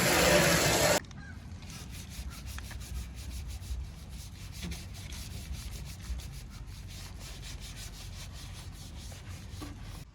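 Sandpaper rubs surface rust off a BMW E34 gas tank in a gravel driveway, making steady, close scratchy strokes in a quick repeating rhythm after a brief loud burst at the start, with no talking.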